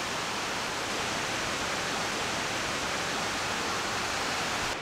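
Waterfall at the Idaho Falls riverwalk, a steady, loud broadband roar of rushing water filling the whole stretch without variation or voices.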